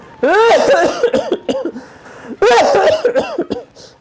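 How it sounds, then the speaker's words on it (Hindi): Harsh, loud coughing fits up close, two bursts of hacking coughs each trailing into smaller rasping coughs. "खांसी तो बंद नहीं हो रही,"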